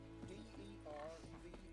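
A horse in the Witcher 3 video game clip-clops in rapid hoofbeats, quiet and low under steady game music, with a soft whinny in the middle.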